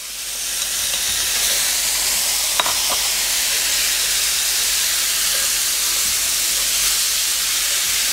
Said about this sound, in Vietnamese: Tắt lửa mà nó vẫn còn xèo xèo á.